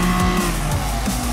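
A race car engine in the driving game Gran Turismo Sport roars in a loud, continuous harmonic drone whose pitch rises and dips slightly as the throttle is held through a corner.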